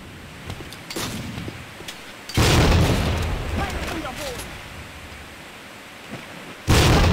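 A grenade goes off in the tactical shooter Tactical Ops, a sudden broad blast at mid-clip with a rumbling tail, followed by a second burst near the end, amid game noise and a talking player.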